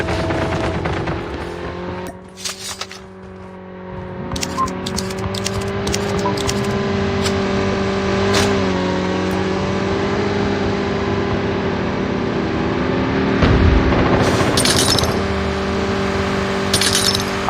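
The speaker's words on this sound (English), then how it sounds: "He's actually riding his motorcycle right towards the team of Team Z." A motorcycle engine revs and whines in a battle-royale shooter, its pitch rising and falling over a sustained drone, with sharp game sounds and clicks scattered throughout.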